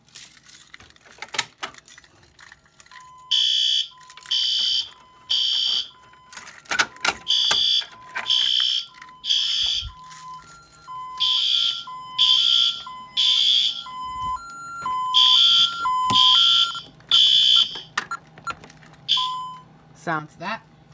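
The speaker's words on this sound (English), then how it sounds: "let's go and pull this one." A newly installed fire alarm system, set off by pulling a pull station, sounds loud repeating bursts of alarm tone in a steady on-off rhythm alongside a sustained beeping pattern, with a faint voice and handling noises at the start.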